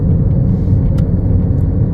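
A car rolls downhill on a mountain road with the accelerator released, gaining speed, producing a loud, steady low rumble of engine and road noise with no talk.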